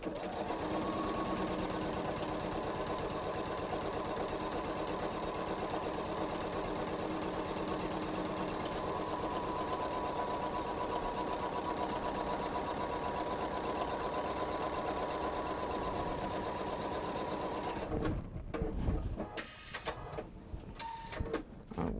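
A sewing machine top stitching a quilted tote hums in a steady, fast mechanical rattle, close and continuous for about eighteen seconds before stopping, followed by a few handling clicks and rustles.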